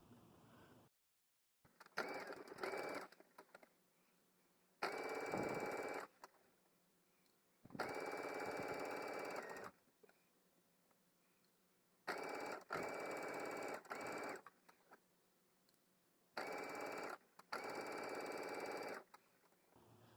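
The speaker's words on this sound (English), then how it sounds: "So now we're going to sew the pockets. We're going to go all the way around, remember to backstitch and then clip." A sewing machine stitches pockets onto a novelty apron in several short bursts of fast whirring, separated by quiet pauses, at close range and moderate loudness.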